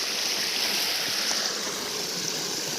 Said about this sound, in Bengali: দেখুন স্রোত বয়ে আসছে, নিচের দিকে তাকাতে হবে